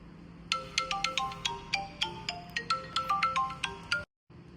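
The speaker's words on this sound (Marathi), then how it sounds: "फोन का नाही उचलत आहे." A mobile phone ringtone plays a repeated melodic pattern of bright, evenly spaced electronic tones over about four seconds, then stops abruptly, leaving near silence.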